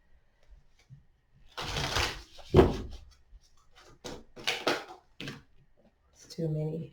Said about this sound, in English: I'm going to shuffle these one more time